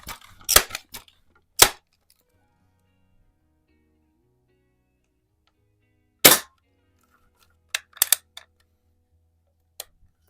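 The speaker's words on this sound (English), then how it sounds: "Let's finish this mag up here. We got 2 more shots." Scoped rifle shots ring out while plinking outdoors, about half a dozen sharp, separate cracks spaced irregularly with quiet gaps between them.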